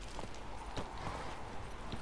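Roach's hoofbeats in The Witcher 3, a steady run of soft clip-clop strikes at moderate distance over a constant ambient bed, with no voices.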